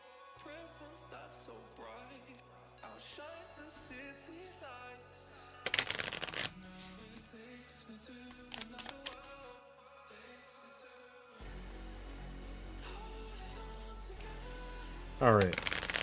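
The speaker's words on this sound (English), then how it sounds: "I guess we got to shuffle these guys up too." Board game cards for Metrorunner being shuffled by hand, a few riffling bursts of papery flutter and card snaps between softer handling, with quiet room noise and a low hum underneath.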